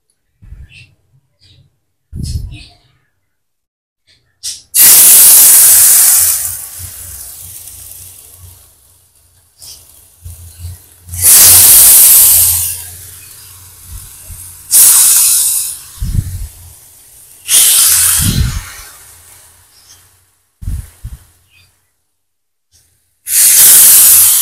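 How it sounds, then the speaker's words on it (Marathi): Chicken pressed onto a hot pan bursts into loud, close hissing sizzles in several separate surges, each fading back to near quiet between them. "झालाय, तवा गरम झालाय. आता आवाज ऐका."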